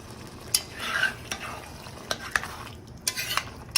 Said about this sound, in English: You see how when I stir my mixture and all of that bubbling goes away?